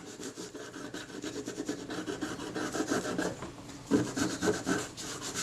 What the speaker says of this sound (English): you might need to do another round with your scalpel to tidy things up